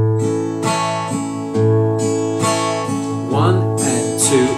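Fingers strum an acoustic guitar while the thumb picks bass notes on the first and third beats, making a steady, close, rhythmic pattern of ringing chords with no talking.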